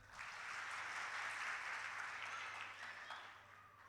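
An audience at a poetry gathering claps in a broad, even wash of applause that holds for several seconds before easing slightly, with no voices over it.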